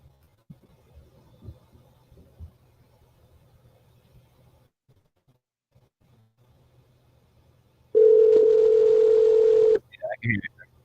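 A telephone tone sounds for about two seconds as a steady, loud hum in an otherwise quiet room with faint low rumble, followed by a few brief clicks and blips.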